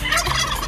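A turkey gobbles in one brief, loud, close warbling burst, with no talking over it.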